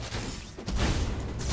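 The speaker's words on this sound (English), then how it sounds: "Yes, explosion." A spell explosion in the video game Path of Exile, a dense, noisy burst of crackling impact sound that swells partway through and sustains briefly, loud and close with no talk.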